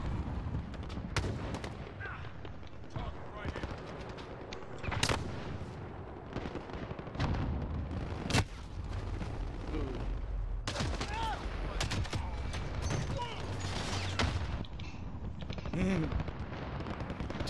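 Rifle shots through a normal scope in Call of Duty Warzone, a series of sharp irregular gunshot cracks and booms spread over the stretch, with talking mixed in underneath.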